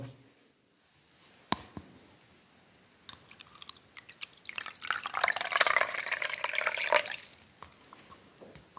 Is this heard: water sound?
yes